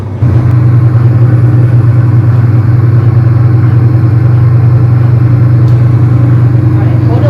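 An aircraft engine in Microsoft Flight Simulator hums loud and steady after a sudden onset, throttled up just enough to taxi, a sustained low drone with a faint voice underneath.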